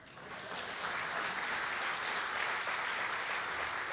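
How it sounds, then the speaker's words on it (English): Steady applause from the audience at the 2025 Alliance for Financial Inclusion Global Policy Forum opening ceremony swells quickly and holds as a dense, even roar of clapping. "Give me a round of applause."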